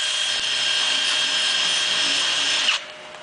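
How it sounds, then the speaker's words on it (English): A steady, high-pitched whine of a cordless drill boring out a metal rivet on a wood furnace shroud, running continuously up close, then abruptly stopping near the end. "You'll want to drill that rivet out."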